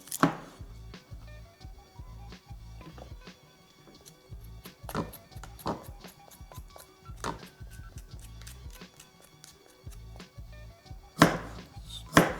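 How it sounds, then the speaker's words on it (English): Rough chopping of vegetables with a knife on a cutting board: quick, rhythmic runs of close, crisp chops broken by short pauses, with a few sharper knocks near the end. "So it's basically just giving it a rough chop because the processor is going to do all the work."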